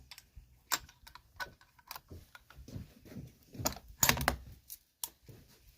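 Rifle scope turret being adjusted while sighting in a rifle: a series of small, sharp, close clicks in uneven bursts, some faint and some louder, with no talk over them.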